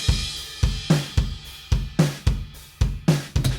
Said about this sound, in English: That's just a stock Easy Drummer groove.